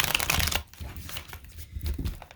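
Tarot cards being shuffled by hand in a quick papery burst of riffling and crinkling, then softer scattered shuffles, close and quiet.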